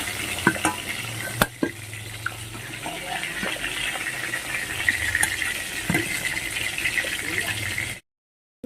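Rohu fish pieces fry in hot oil in a pan, a steady broadband sizzle with a few sharp pops and spatters throughout, close and fairly loud, ending abruptly in silence near the close.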